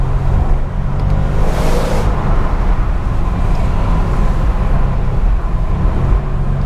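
Audi RS6 Performance estate with a 605PS engine revving hard and held at the rev limiter, a loud continuous droning roar with steady buzzing harmonics across the whole stretch, close and without talk.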